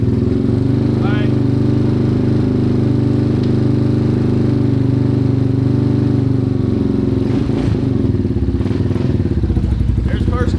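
A Yamaha Warrior 350 four-wheeler engine runs loud and close in first gear with a steady throaty drone and some clatter, people talking over it.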